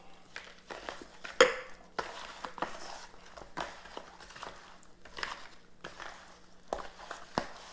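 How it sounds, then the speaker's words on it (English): Pork belly seasoning being crushed and mixed in a bowl, with a scattering of light scrapes, taps and clinks spaced irregularly over faint background hum. "We're gonna take and get these lumps out, crush them up like that. All right, like that. Mix them up real good."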